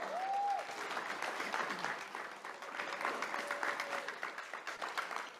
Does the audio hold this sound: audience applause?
yes